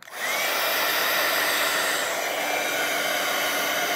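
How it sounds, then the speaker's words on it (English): Heat gun blowing hot air over watercolor paint, a steady loud whooshing roar that switches on at once and then holds constant for several seconds with no talk. "let's go ahead and give this a shot now with my heat gun"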